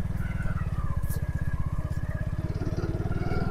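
A motorcycle rides along a rough, risky tea garden road in Fenchuganj, Sylhet, its engine thumping in a fast, steady, close pulse with faint clatter from the bumpy surface.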